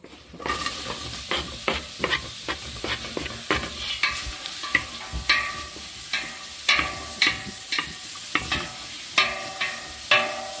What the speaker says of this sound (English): You just want to saute the onion in butter until it starts sweating or turns translucent.